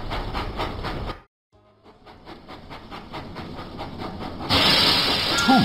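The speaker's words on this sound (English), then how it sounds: "Thomas puffed proudly into Farmer McCall's farm." A cartoon Thomas the Tank Engine train in a video game chuffs along with rhythmic steam puffs, then a brief pause before the rolling track noise resumes and a bright hiss of steam bursts in at the end.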